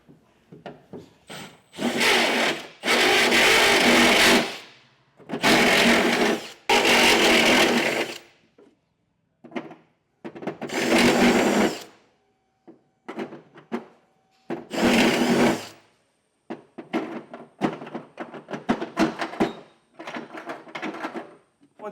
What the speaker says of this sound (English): Use a step bit to widen these holes out just so our U-bolts can fit nicely in there.